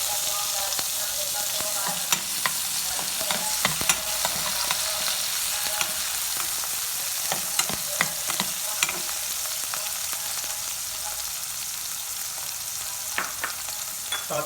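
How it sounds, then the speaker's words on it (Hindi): Chicken roll filling with tomatoes sizzles steadily in a pan, with scattered clinks and scrapes of a spoon stirring through the fry. "एक मिनट तक इसे फ्राई करके हम तो अब इसमें ऐड कर देंगे टमाटर"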